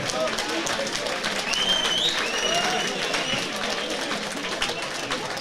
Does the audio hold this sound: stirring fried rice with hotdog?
no